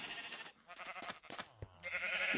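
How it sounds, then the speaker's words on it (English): Sheep in the Minecraft video game bleat several times in short, nasal, wavering calls, clear and close, with brief pauses between them and no talk. "is that sheep?"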